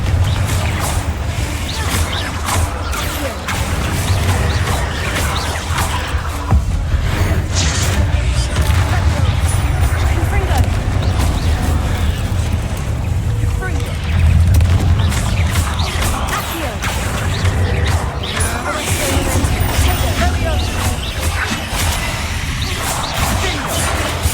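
Repeated Confringo explosive spells in Hogwarts Legacy, with loud booming blasts, whooshes and crashing impacts layered into a dense, continuous din of combat noise and a voice speaking at times.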